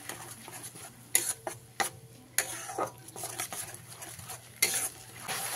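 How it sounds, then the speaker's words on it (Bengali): A spoon stirs tomato and coriander paste into fried onion, ginger and garlic in a pan for an egg and potato curry. Irregular scraping and clinking strokes sound over a soft sizzle, near and fairly quiet, with no talking. "এই পর্যায়ে এর মধ্যে দিয়ে দিতে হবে টমেটো আর ধনে পাতার পেস্ট দিয়ে খুব ভালো করে আবার মিশিয়ে নিতে হবে"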